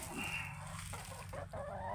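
Egg-laying chickens clucking on a farm, soft irregular clucks and calls over a constant background hum, fairly quiet, with no talking.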